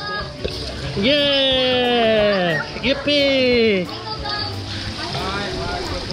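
A steady hiss of spraying, splashing water runs throughout while excited voices shout and cheer close by.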